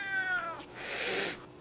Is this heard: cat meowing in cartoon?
yes